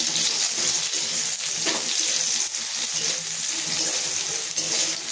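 Cubed potatoes fry in hot oil in a pan, the first step of a leafy greens dish: a steady, close, broadband sizzle with faint clinks running throughout, and no voices.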